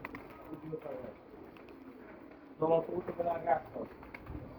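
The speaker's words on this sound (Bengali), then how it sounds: "এখন আমরা কবুতর এগুলো ছাড়বো এখানে চব্বিশ কবুতর আছে" Soft pigeon cooing comes in low, rounded calls, with people talking nearby and partly covering the birds.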